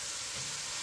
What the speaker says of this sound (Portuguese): Vejo aqui que eu estou fritando, então dei uma pequena afrouxada na cenoura.